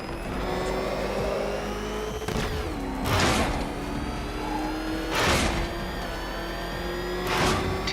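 The Batmobile tearing along in Batman: Arkham Knight, its engine a sustained whine that drops and climbs with gear shifts, punctuated by three loud whooshing bursts.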